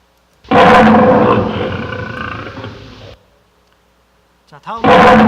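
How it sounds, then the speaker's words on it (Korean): A tiger gives a loud, close, raspy roar lasting a few seconds that fades into a growl. After a short pause, a brief grunt leads into another roar. "먼저 호랑이 소리가 되겠습니다."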